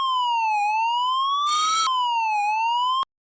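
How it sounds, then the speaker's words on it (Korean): A sprinkler system's fire alarm control panel siren wails up and down steadily, loud and electronic, joined briefly midway by a harsh buzzer burst, then cuts off abruptly. "울리고 있는 부저 사이렌 소리를 차단하여"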